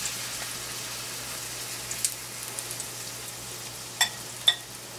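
Soft, steady sizzling of cornbread patties frying in oil, with a couple of brief sharp pops partway through.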